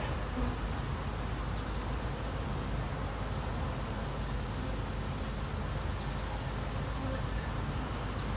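Honey bees at a queenless hive make a dense, steady buzzing drone that stays close and constant throughout, with no pauses.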